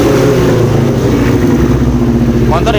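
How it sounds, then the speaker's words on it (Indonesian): A Kawasaki Ninja 250 fuel-injected motorcycle idles steadily close by on a freshly charged battery, a low throbbing rumble running throughout with a brief rise near the end. "motor hidup karena akinya baru kita cas"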